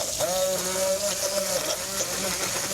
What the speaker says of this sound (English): Then we get my favorite tool, the stick blender.